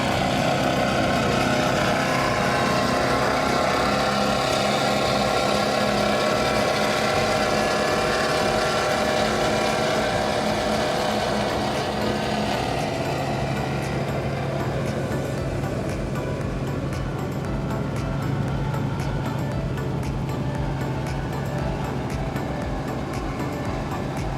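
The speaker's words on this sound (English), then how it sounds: "There's not another boat on this run that looks or even sounds like this Outer Limits." Engines of a 47-foot Outer Limits powerboat, Team Pure Evil, on the Key West Poker Run, roar steadily and loudly throughout, a continuous throaty drone with wind and water noise, no talk.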